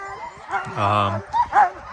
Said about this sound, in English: I know some people may wonder why the dogs are yelling or barking